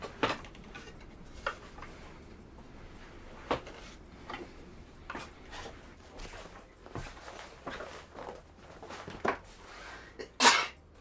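Among scattered ticks, taps and faint shuffling, one person sneezes sharply near the end. A few brief coughs or throat noises come earlier, all fairly quiet and close by.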